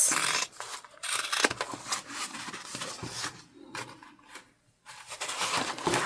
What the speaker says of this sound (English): I am just going to trim down our seam allowance.